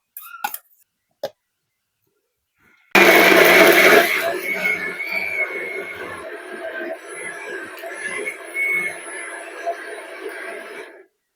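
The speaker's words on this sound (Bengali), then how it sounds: "এই মিক্সির জারে এই যে এই সাবানটা দিয়ে ভালো করে পেস্ট করে নেব" A mixer grinder blends bar soap into a smooth paste in its jar. A few brief knocks come first, then the motor starts abruptly and runs loud and steady with a churning whir for several seconds before easing to a lower hum.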